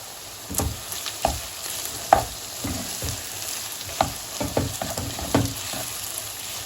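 Tomato paste being fried with onions and meat in a pan for a meaty dried bean stew, with a steady soft sizzle and occasional sharper stirring scrapes and clicks, no voices.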